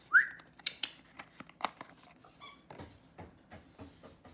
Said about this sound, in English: my dog of course has found a squeaky toy.